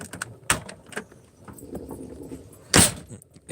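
A house door opens with a loud broadband clatter of the latch and handle near the end, after a few softer knocks and bumps nearby.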